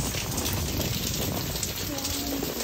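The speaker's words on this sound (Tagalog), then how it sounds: "The rain is too heavy." Heavy rain pours down steadily in Albania, a dense, unbroken roar of drops hitting surfaces close by.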